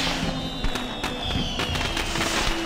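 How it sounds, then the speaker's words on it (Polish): Fireworks burst in the Heavenly Sword video game, with a dense run of crackling pops and sharp bangs over steady in-game noise and a tonal music bed, close and loud throughout. "sztucznymi ogniami. Fajerwerkami."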